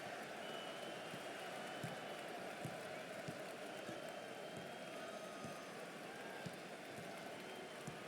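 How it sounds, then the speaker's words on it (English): Steady roar of an arena crowd in the college basketball game NCAA Basketball 10, a dense, even wash of cheering and clapping that holds throughout with faint squeaks and thuds beneath. "Listen to the crowd."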